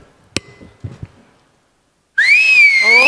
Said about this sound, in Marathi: फक्त शिट्टी मारून